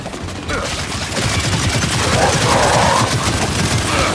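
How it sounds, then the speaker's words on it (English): Sustained machine gun fire in the co-op shooter Gears 5, a loud, dense rattling burst that starts after a brief lull and keeps hammering steadily to the end. "Machine gun."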